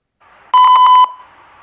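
On an LM35 room temperature monitor fitted with an LED, an electronic buzzer sounds one loud, steady beep lasting about half a second, with a faint electrical hum before and after it.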